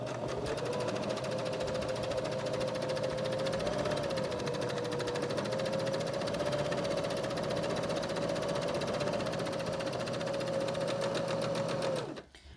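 Sewing machine stitching down the handles of a fabric tote bag runs in one steady, close, continuous whir for about twelve seconds, then stops abruptly, with no voices.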